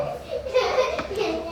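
A young child babbles and vocalises indoors during a Korean sermon, small voiced sounds rising and falling close by for a second and a half, with faint handling noise.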